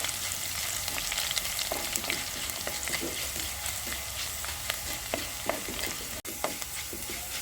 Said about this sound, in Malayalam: ഇനി നമുക്ക് ഇഞ്ചി വെളുത്തുള്ളി നീളത്തിൽ എരിഞ്ഞെടുത്തതാണ് കേട്ടോ ഇതൊന്ന് വഴറ്റിയെടുക്കാം